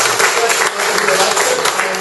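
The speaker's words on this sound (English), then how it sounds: "can we give the representative a round of applause?" A selectboard meeting audience applauds a state representative with a steady round of clapping over a couple of seconds, with a voice faintly underneath.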